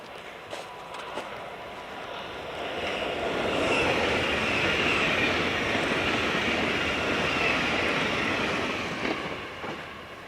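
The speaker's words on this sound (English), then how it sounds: "Train going to Middelfart." A train bound for Middelfart rumbles past outdoors on a cold, snowy day. It swells into a broad, steady roar with a faint clatter, peaks at mid-clip and holds before easing slightly, with no voices over it.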